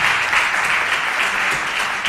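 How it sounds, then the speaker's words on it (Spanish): Audience applause after a debate on the Mar Menor environment, a loud, dense burst of clapping from a crowd, sustained evenly and heard alone. "pido un aplauso para los grandes asistentes de este debate"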